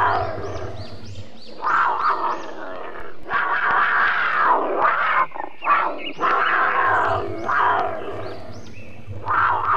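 A toy leopard gives off a recorded roar, with repeated growling roars close by, interrupted by brief pauses and a few clicks.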